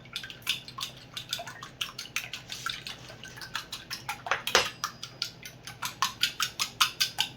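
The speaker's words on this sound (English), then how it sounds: "I'm gonna get that egg mixed in." An egg is beaten into batter in a bowl with quick rhythmic whisking that makes wet slaps and clicks against the bowl. The sound speeds into steady strokes and is heard close, without talk.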